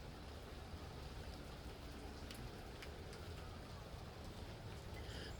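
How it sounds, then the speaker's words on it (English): Rain falls outside in a steady, even wash of patter with a few sharper drip ticks scattered through it, continuing unbroken and fairly quiet with no voices. "It's raining out, which is beautiful."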